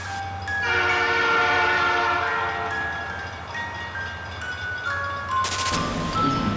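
A train rumbles along steadily while its horn sounds long, bright, held tones over the clatter, with sharp clicks at the top end. It is loud and close, with no talk.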